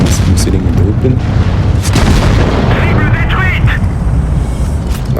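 Tank gunfire in the mobile game World of Tanks Blitz, with booming cannon shots and impacts over continuous engine rumble; someone talks over the game sounds throughout.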